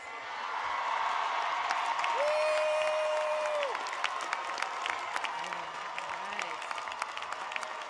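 An audience of graduates' families and friends at the Rice University commencement applauds McMurtry College degree candidates, with steady sustained clapping, scattered whoops and a faint tone held in the background.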